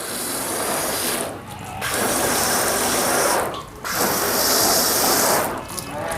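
A garden hose sprays water onto a car during a touchless sealant wash, a steady broad hiss broken by two short pauses, loud and close with no voices.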